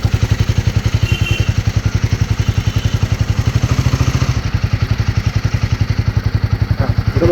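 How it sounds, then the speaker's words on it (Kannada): A motorcycle engine catches and settles into a steady, loud close-up running beat with mechanical clatter, the rhythmic pulses continuing evenly until a slight change near the end. "ಇದನ್ನ ಸ್ಟಾರ್ಟ್ ಮಾಡೋದು ಒಂದ್ಸಲ ಗಾಡಿನ ನೋಡಿ"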